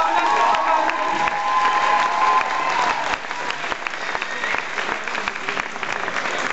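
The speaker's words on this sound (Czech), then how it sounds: "Tak ještě jednou velký potlesk pro naše okamžiky." Audience clapping at a Christmas-season TenSing concert, dense and steady at first with some cheering, then thinning into lighter scattered claps.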